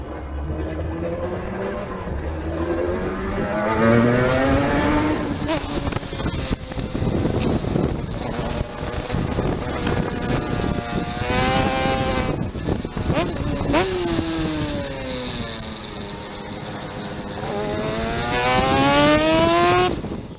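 A Yamaha TZR250 two-stroke race bike warms up at a racing circuit, its engine revving in repeated rising and falling buzzing sweeps, close and loud, with wind noise over the microphone.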